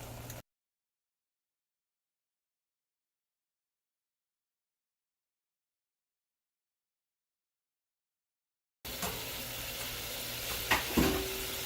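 Ground beef sizzling in a pan, a steady frying hiss heard briefly at the start and again after a long silence, with a clink of a utensil against the pan near the end.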